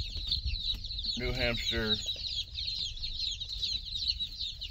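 Newly arrived chicks, including a New Hampshire breed, cluck and chirp in a steady high-pitched chorus with a brief louder burst of clucking near the middle, while someone talks over them.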